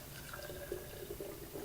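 Homemade pecan milk pouring into a container, a soft continuous liquid trickle with gentle gurgles and a faint filling tone, moderately close and quiet.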